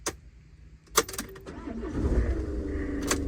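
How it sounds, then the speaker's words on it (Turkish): After long storage, a camper van's engine cranks and catches following a few clicks and a jingle of keys, then keeps running with a steady, close rumble. "Bakalım araba çalışacak mı?"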